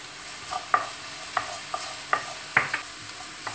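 Garlic for a mushroom sauce sizzling softly in a pan, with a spoon or spatula tapping and scraping against it in irregular strokes about every half second.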